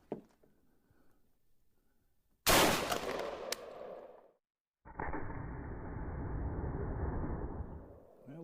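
Weapon test-fired at a target outdoors: a sharp loud burst of gunfire with a crackling tail that fades, followed after a pause by a long steady roar, with no talk.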